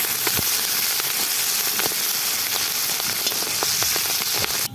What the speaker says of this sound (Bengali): তো এখন আমার তেলটা গরম হয়ে গেছে, তেজপাত, কাঁচা লঙ্কা আর পাঁচফোড়ন একসাথে ঢেলে দেবো